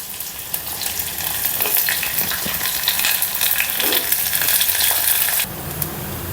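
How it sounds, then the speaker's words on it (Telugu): Onions fry in a pan for a meal maker pulao, a loud, dense, steady sizzle with stirring scrapes that drops to a quieter hiss near the end. "ఉల్లిపాయ వేసి కొద్దిగా బాగా ఎర్రగా వేగనిద్దాం"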